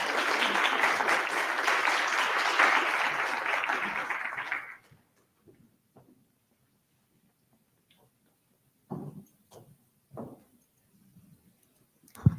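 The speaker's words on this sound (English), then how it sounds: "I'd like for you all to give yourselves a big hand" A convention audience of leaders applauds, with dense clapping for about four and a half seconds that stops abruptly, leaving near silence broken by a few faint scattered sounds.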